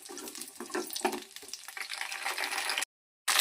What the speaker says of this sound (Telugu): పచ్చిమిర్చిని గ్యాస్ లో ఫ్లేమ్లో ఉంచుకొని వేయించుకోవాలి